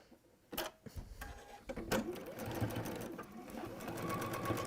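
A sewing machine stitches a seam through fabric, starting with a few short, loud clacks before settling into a fast, steady mechanical whirr that runs to the end.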